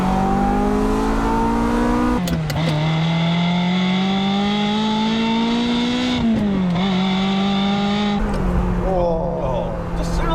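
A Ferrari 355 Spider engine revs hard and holds near 4,000 rpm, its loud howl rising, dipping and climbing again in several close, continuous pulls with no talk.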